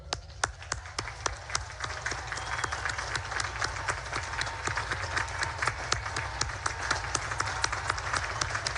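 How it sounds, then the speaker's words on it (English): A graduating naval academy class stands and applauds their families at a commencement ceremony. The clapping is steady, crowded and moderately distant, with sharp individual claps standing out and continuing throughout. "give them a round of applause"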